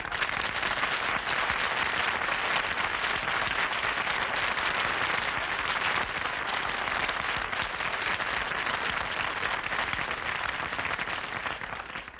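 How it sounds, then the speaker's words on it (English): A studio audience at a radio comedy broadcast greets Humphrey Bogart's entrance with loud, dense, sustained applause that continues unbroken without speech and tapers slightly at the end. "I didn't mind the applause he got on his entrance"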